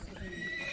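Horse neighing at a Welsh Pony & Cob championship show, a brief close whinny over faint background voices and ambient crowd noise.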